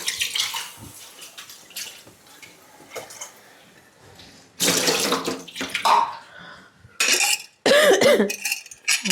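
Water runs in bursts in a home kitchen, with loud gushing spells separated by quieter gaps and faint background sounds.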